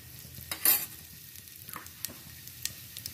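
Whole spices and a pinch of asafoetida crackle in hot oil for a green pea curry. Soft sizzling runs underneath, broken by a louder burst early on and a few sharp pops afterward.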